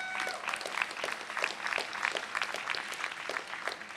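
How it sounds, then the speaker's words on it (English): Steady round of applause from a crowd at a university law school commencement ceremony, heard from a distance and sustained evenly throughout. "Let's give her a round of applause."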